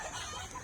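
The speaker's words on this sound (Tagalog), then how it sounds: "Yan, nag-alaga sila ng manok." Chickens kept on a vacant company lot cluck nearby in a brief, steady burst, with no talk over them.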